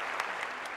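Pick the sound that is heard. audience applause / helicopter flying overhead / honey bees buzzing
audience applause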